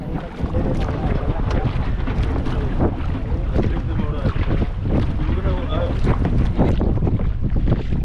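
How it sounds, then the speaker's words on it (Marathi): A small fishing boat motors across the open sea on a cloudy, windy morning; strong wind buffets the microphone over a constant engine and water rush while someone talks. "आता आपली छोटी होडी मोठ्या बोटीजवळ पोहोचले"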